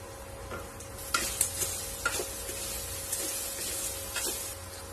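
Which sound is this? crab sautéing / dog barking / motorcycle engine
crab sautéing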